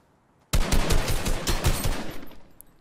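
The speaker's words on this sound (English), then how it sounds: "I'm pretty sure I'm being shot at." Gunfire in the video game Fortnite erupts after a half-second of quiet, a loud, rapid burst of automatic shots that rattles on for about two seconds before tapering off.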